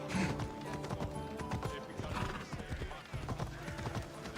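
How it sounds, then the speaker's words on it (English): Clip-clop of horse hooves in the video game Assassin's Creed Odyssey, a steady trotting rhythm with a whinny, fairly quiet and close, with speech faintly underneath. "Here's horsey."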